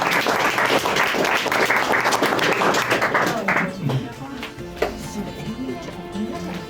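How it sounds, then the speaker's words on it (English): Wedding guests give a round of applause, dense clapping that fades out by the middle, followed by quieter talk and a sharp knock. "big round of applause"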